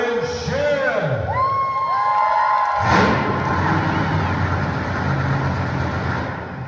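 A monster truck in Alabama is fired up: whoops and shouts come first, then a loud engine roar starts partway through and keeps rumbling under a cheering crowd.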